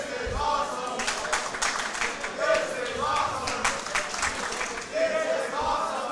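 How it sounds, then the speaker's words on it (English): Crowd at a live wrestling show in Azusa, California, cheering and clapping in a loud, continuous roar while a commentator talks over it. "Just listen to the crowd."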